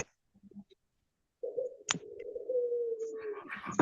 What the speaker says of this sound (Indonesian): ada suara burung perkutut